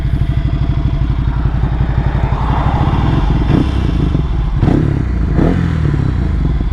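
A 2024 Ducati Scrambler motorcycle engine pulls hard at full throttle on a country road, loud and close with a steady rapid exhaust pulse and some clattering wind noise, heard alone without talk.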